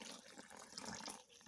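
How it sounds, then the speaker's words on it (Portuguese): Water poured into plaster powder already sitting in a bowl, a faint continuous splashing trickle for a moment with no talking. "Vejam que o gesso já está dentro da vasilha e nós vamos adicionar água"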